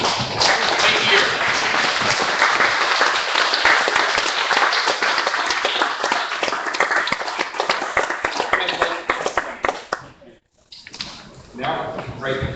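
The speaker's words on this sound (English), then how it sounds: "let's give them a big round of applause" Audience applause at a city council meeting welcoming newly elected city officials: loud, dense clapping from a crowd sustained for about ten seconds, then a brief drop and a short burst of clapping again.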